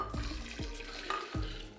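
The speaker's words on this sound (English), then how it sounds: "Now I'm going to pour my cup of coffee in." Coffee is poured into a blender in a quiet, close splashing trickle, with a few soft knocks along the way.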